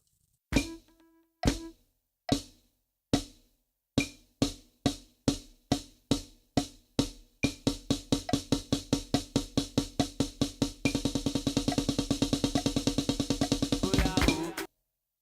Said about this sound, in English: This is the single stroke roll